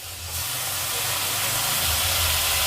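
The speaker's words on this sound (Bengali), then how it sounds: "এবার এর মধ্যে দেওয়া হচ্ছে জল।" Water poured into a hot pan of small mourala fish, an abrupt loud hiss of steam that swells and holds steady.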